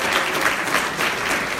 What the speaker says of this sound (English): yes, you can, a round of applause.